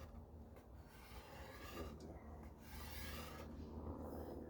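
A hard scraper with a burred edge drags along a red oak longbow limb. It makes a faint, continuous rubbing rasp with a few slightly stronger passes, heard up close over a low background hum.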